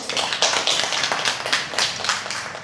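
An audience at a debate event applauds the best debater with continuous clapping that stays lively and fairly close throughout.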